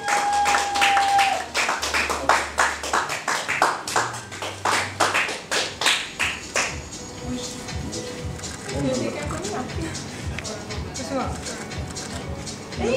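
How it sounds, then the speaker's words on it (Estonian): Applause and clapping from the audience at a beauty pageant, Miss Baltic Sea Estonia 2024, sharp separate claps forming a rhythmic burst that fades into scattered taps, with music and voices beneath. "Aplaus!"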